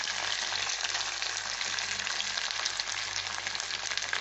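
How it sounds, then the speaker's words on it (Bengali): Bean mash fries in hot oil in a wok, giving a dense, continuous sizzle that stays fairly even and close throughout, with no voices. "এটা যেটা মেখেছিলাম সেইটার থেকে হাফ করে আমি তেলে দিয়ে দিলাম"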